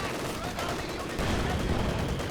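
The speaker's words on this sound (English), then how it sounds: "that's a monster hit from the Panzer IV" Panzer IV tank gun hit in Company of Heroes 2, a dense burst of game battle noise with gunfire and an impact rumble, loud and continuous with no clear pauses.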